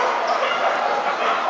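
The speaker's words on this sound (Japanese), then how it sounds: "ずっと吠えてますね" Dogs bark and yip continuously amid the noisy crowd of a European dog show in Paris where Italian Greyhounds are being shown, a dense, busy wash of sound filling the hall with no clear pauses.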